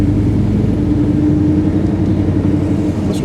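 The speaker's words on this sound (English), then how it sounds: "Brake dragging. At least idling good." A GMC Jimmy with a dragging brake idles steadily, a loud, even low rumble with a faint tonal hum and no talking.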